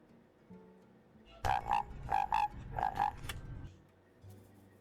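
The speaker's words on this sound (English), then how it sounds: "The frog sound in the sound alerts is Henry" A frog sound alert fires during a home kitchen livestream: a quick run of about six throaty croaks, moderately loud, set against a quiet room background before and after.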